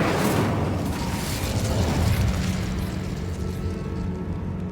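An Incendio fire spell cast in Hogwarts Legacy, a loud, roaring burst of flame with a heavy rumbling low end that holds strong, then slowly thins and fades over several seconds.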